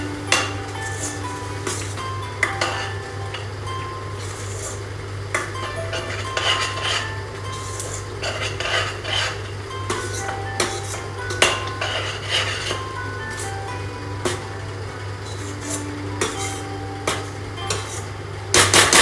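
A spoon stirs palak paneer in a pan, giving repeated metallic clinks and scrapes against the pan over a constant low kitchen hum.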